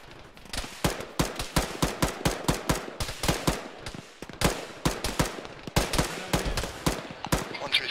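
Gunfire in an Arma squad game session: loud, rapid rifle shots in quick bursts, near and sharp, crackling almost continuously with short gaps.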